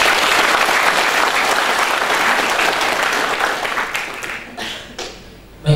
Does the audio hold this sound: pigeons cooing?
no